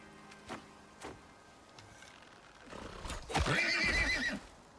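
In the video game Icarus, a horse whinnies loudly near the end, a shrill wavering neigh, preceded by a couple of soft thuds and faint background ambience.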